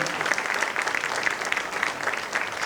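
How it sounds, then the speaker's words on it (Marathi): Loud, dense applause from an audience at a family clan gathering's inaugural session, sustained and even from start to finish. "एकदा मोठा टाळ्यांचा कडकडाट करून आपण"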